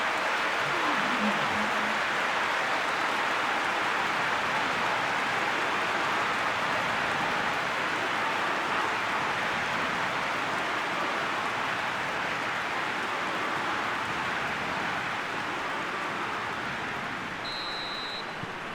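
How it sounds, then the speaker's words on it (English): Steady rain hisses as an even, continuous wash throughout in the football game PES 2021, with a faint brief beep near the end. "Rain starting to fall here."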